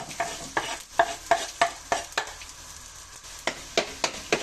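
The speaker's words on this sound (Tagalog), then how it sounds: "ang ating kawali ay lalagyan natin ng mantika. Isusunod natin ang ating bawang" Garlic frying in oil in a pan, a continuous sizzle broken by a regular series of sharp stirring scrapes and taps, close and fairly loud with a short pause midway and no talking.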